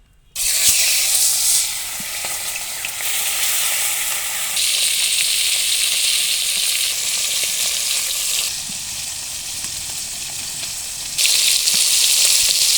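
Jagara fish sizzles loudly and steadily in a hot pan of oil, a dense close hiss that swells and eases in a few stages with no voices.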